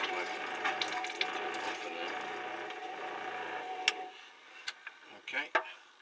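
Water from the pump rushes steadily into a motorhome sink for about four seconds, then drops to a faint trickle with a few small knocks and clatters.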